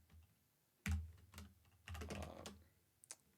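Quiet keystrokes on a computer keyboard come in short irregular bursts and single taps, close and faint, with no voice.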